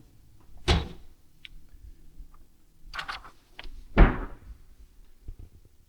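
Sliding shelves in a house are pulled out in a few separate bursts, each a short rolling scrape with a soft knock, spaced apart with quiet gaps between them.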